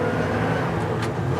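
A 1960 Chevy Apache 4x4 pickup's engine runs in four-wheel drive, a steady close rumble that stays even for a short moment.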